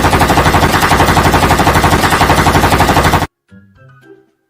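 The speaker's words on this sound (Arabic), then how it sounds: "تمام هسه راح ارميهم." Machine gun fire in a video game, a loud rapid unbroken burst of rounds lasting about three seconds before stopping abruptly, followed by quiet game sounds.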